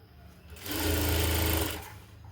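A sewing machine stitches a sleeve in one steady motor-driven run of about a second, rising from quiet, holding a close even whir, then stopping.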